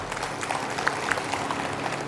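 An audience at a speech applauds together to salute Maloji Raje, producing a dense, steady patter of many hands clapping at moderate volume for the whole stretch.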